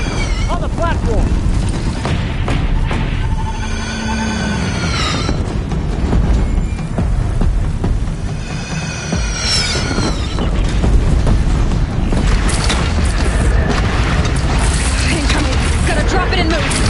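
Heavy booming cannon blasts in Horizon Zero Dawn over a dense, chaotic battle soundscape, with shouting voices and whistling projectiles in a loud game scene.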